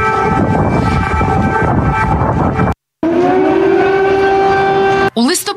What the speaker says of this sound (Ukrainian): Повітряні сили реагують на загрозу і оголошують тривогу в усіх областях.